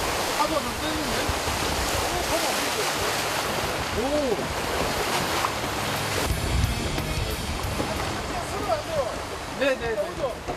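Rough sea waves surge and churn steadily around a small boat near rocky island shores during wild seaweed harvesting, a loud, continuous wash with faint voices calling over it.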